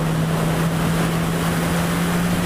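Suzuki GSX-S1000 motorcycle riding on curvy roads at night, a steady low engine drone with a constant tonal hum under heavy wind rush, with no voices.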